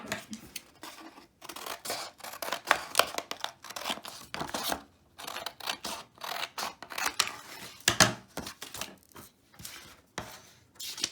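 Scissors cut through folded cardstock for an accordion sketchbook, with crisp snipping strokes in close bursts and short pauses between cuts, heard alone and near.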